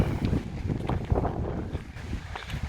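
Strong wind buffets the microphone outdoors on open ground in rural France, a rough, gusting rumble with uneven surges and no clear voice, close and moderately loud.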